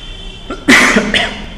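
A single harsh cough up close, preceded by a small throat sound and followed by a second shorter cough burst, with no talking.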